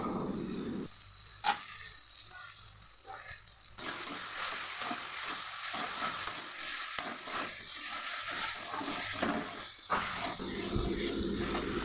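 Turmeric, Kashmiri chili, cumin and coriander powders sauté in a pan for a stuffed pointed gourd filling, with a steady close sizzle and hiss broken by scraping stirs from a spoon.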